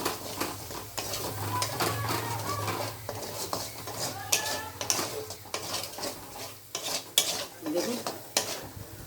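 A spoon scrapes and clinks against a pan while spice paste fries and sizzles underneath, the stirring strokes coming in irregular close bursts throughout with no talking.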